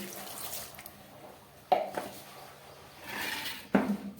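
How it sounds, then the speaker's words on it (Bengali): Fish are soaked and rinsed in water in a kitchen, with quiet sloshing and a couple of sharp splashes or clatters against a vessel, and faint background voice. "একদম প্রথমে আমি মাছগুলোকে ভালো করে জল দিয়ে ভিজিয়ে নিচ্ছি।"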